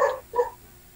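A dog barks twice in quick succession, two short mid-loud yaps about half a second apart, then quiet room noise.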